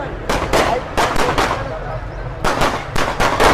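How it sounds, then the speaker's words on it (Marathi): Firecrackers go off at a village fair, a string of loud, sharp bangs in irregular bursts, some in quick pairs, with a short lull midway, over a steady crowd murmur. "तिकडे बॉम्ब फुटतायत,"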